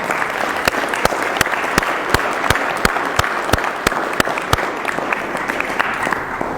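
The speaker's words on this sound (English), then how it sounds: "Would you guys give them a round of applause for how wonderful they've done this year?" A crowd applauds people being thanked for their year's work, with dense clapping throughout and a sharp, regular beat of louder unison claps standing out roughly every third of a second.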